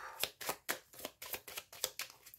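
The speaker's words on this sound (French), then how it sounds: "on va faire un petit tirage avec le petit Lenormand" Lenormand cards shuffled for a card reading, a steady run of about eight crisp riffling bursts close to the microphone, each a short papery rush, with no voices.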